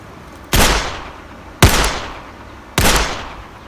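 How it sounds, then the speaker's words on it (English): .50 caliber gun shots fired at a shield: three loud, sharp blasts spaced about a second apart, each with a short decaying tail, close by with no talking. "we're going to shoot this 50 cal at it and see what happens"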